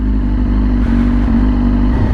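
A Yamaha R6 sport motorcycle engine holds a loud, steady idle-to-rev roar close up, with a harsher surge midway and continuous low rumble throughout.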